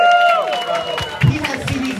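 A live crowd claps and cheers for a resident DJ at a club show, a loud wash of applause with chatter and a voice talking over it.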